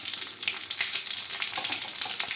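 Small shallots and dried vathal chillies frying in oil for sambar, a steady, close, crackling hiss that runs evenly throughout with no talking.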